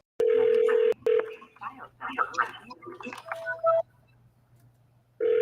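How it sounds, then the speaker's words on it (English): Telephone keypad tones ring out loud and close as a number is dialed during a live cold-calling session, a long steady tone followed by a rapid run of short beeps, then another tone after a pause. "Pick up the phone and start dialing."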